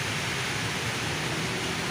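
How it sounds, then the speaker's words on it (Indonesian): Steady rain hisses as a dense, even wash of noise with no break, close and fairly loud, while work goes on around a Daihatsu Charade 1.3. "Ini posisi hujan teman-teman."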